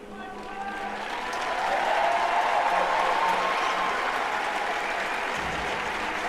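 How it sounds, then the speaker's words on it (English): A home crowd in a college women's basketball arena, Georgia Tech against North Carolina, applauds an injured player as she stands up, broad sustained clapping and crowd noise swelling early and holding steady, with a commentator talking over it. "you hear the McCamish Pavilion faithful giving her a huge round of applause as she stands up"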